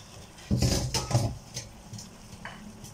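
A Chinese dish frying in a pan is stirred with a utensil, several scraping clanks against the metal over a soft sizzle, close and fairly loud.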